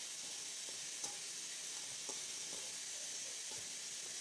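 Kabyle couscous with fava beans steams in a steamer, making a steady soft hiss throughout with a few faint small ticks, close and even in level.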